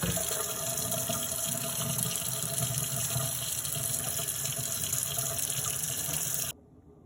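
Tap water runs steadily and loudly over chitterlings being rinsed clean in a kitchen sink, a continuous gush that cuts off abruptly near the end.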